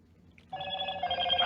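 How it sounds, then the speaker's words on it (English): A phone notification tone sounds suddenly after a quiet moment, a clear ringing chime that holds steady and close for about a second. "Fucking phone notifications"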